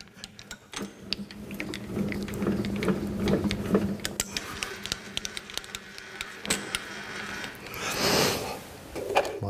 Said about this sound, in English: Make sure that my cutter turns in the correct direction.